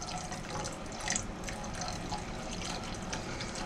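Water poured into a hot pan with flour drippings to make gizzard gravy, a steady rushing, sizzling pour that fills the whole stretch evenly and close up, with no talk.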